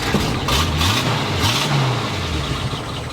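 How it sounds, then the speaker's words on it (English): A hot-running engine in a 1948 Pontiac Silver Streak, heard up close in 105-degree heat. It holds a steady mid-pitched drone with a slight rise and fall in tone. "Hot engine"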